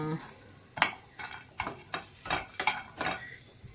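Ingredients for obbattu sambar frying in a pan, a ladle scraping and knocking against the metal in a steady rhythm of about eight strokes over a soft sizzle, close up with no speech.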